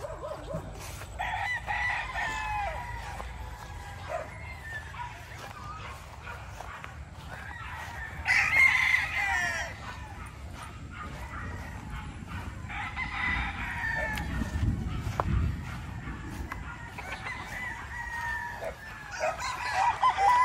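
Several fighting roosters, including Roundhead gamefowl, crow one after another at a distance on a gamefowl farm, with hens clucking and a dog barking now and then amid steady outdoor background noise.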